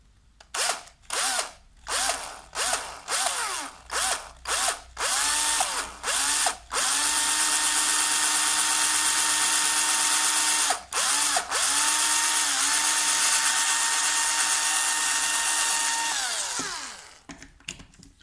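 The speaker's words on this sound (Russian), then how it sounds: "Я сейчас просверлю это аккуратненько шуриком" A cordless screwdriver drill bores a hole, starting with a series of short whirring bursts, then running in long sustained whines with brief pauses before winding down. No one speaks.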